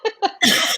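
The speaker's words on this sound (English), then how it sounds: "I've been trying to hold off coughing." Close, loud coughing from one person, two short coughs followed by a longer harsh fit, from someone with a cold.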